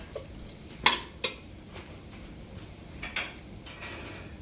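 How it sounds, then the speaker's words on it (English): Seasoned beef and onion cook in a skillet with a low, steady sizzle, broken by a few sharp scrapes and clinks of a utensil stirring against the pan. "let that cook a little bit. Mix those seasons in right there."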